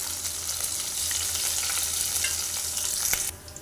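Onions and sliced green chilies sizzle steadily in hot oil in a pan, a continuous close frying hiss with light stirring, stopping abruptly near the end.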